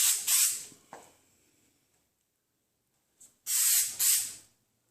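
Short bursts of a spray gun laying a light first coat of paint on a 2015 Honda Civic body panel during collision repair, two hissing passes, a pause, then two more, close and fairly loud with no talk.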